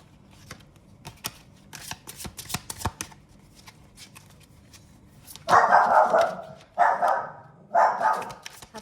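Tarot cards shuffled and handled during a deck reading, giving a run of soft close riffling clicks and slaps, followed by three louder, longer bursts of card shuffling.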